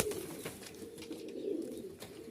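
A Danish magpie pigeon coos softly in a low, steady murmur that continues throughout, with a few faint breaks and no other voices.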